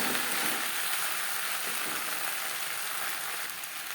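Cauliflower stalks stirred in a pan over a high-medium flame give a steady, close, broadband hiss of frying with faint scraping, unbroken across the whole span and free of talk.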